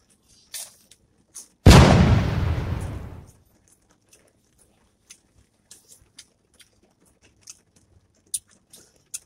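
Rain falls on a rainy day outside a Blaze Pizza restaurant. Scattered close drips and taps are broken by one loud rushing burst lasting under two seconds, with no talking.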